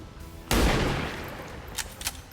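Gunfire in XCOM 2 bursts out suddenly as a loud, booming shot with a long rumbling decay, followed by two faint sharp cracks.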